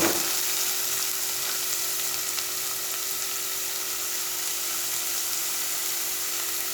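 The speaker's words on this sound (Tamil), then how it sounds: "பண்ணி வச்சுருக்க வெங்காயத்தை போட்டுருங்க. சிவந்து வர்ற அளவுக்கு நல்லா வதக்குங்க." Chopped onions sauté in a pan for a Tamil-style egg thokku, giving a steady, even sizzle and frying hiss close up, with a faint tonal hum underneath and no talking.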